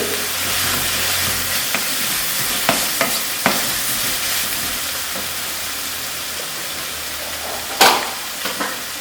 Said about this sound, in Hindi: आधे चम्मच धनिया पाउडर डाल रहे हैं, तो अच्छी तरह भूनेंगे।